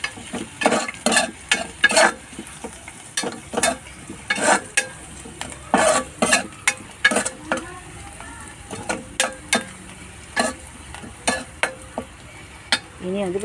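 Turmeric being stirred in a frying pan while cooking a stir-fry, a soft sizzle underneath a regular series of sharp scraping and clinking spoon strokes, close and prominent, with no talk.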